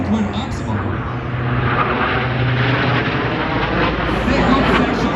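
Italian Air Force Frecce Tricolori aerobatic jets roar loud and steady over a New York airshow, the broad engine noise sustained throughout while an announcer talks over it.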